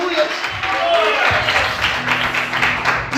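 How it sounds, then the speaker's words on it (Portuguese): A church congregation claps in praise during a service, a loud, continuous clatter of hands with voices and calls mixed in throughout. "mais forte as palmas"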